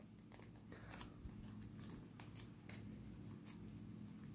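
Scissors snipping through a sheet of origami paper to cut it in half, a run of short crisp paper cuts and rustles close by, faint and steady.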